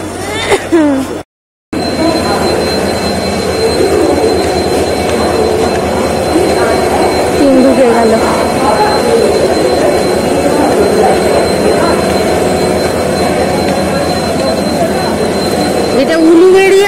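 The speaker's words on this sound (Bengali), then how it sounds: "এটা উলুবেড়িয়া লোকাল" An Uluberia local passenger train rumbles past close by in a loud, sustained roar of wheels and carriages, with a steady tonal whine and occasional squeals, briefly cut at the start and steady thereafter.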